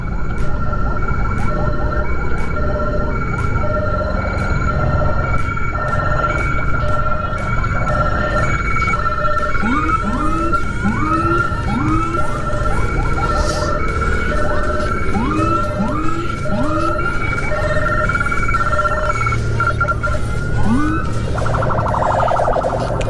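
Police convoy sirens wail loudly on an Indonesian road, several overlapping yelps and warbling tones repeating over steady traffic noise.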